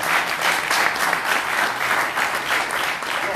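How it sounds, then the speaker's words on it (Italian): Strong, steady applause fills a football club's press conference room, dense clapping from the gathered audience that stays loud and continuous throughout. "Però io un applauso forte ve lo farei"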